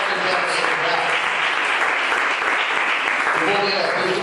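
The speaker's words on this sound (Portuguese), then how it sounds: "Vamos aplaudir a Ele" Congregation applauding at an evangelical church service, a dense, steady wash of clapping from many hands that fills the whole stretch, with voices mixed faintly underneath.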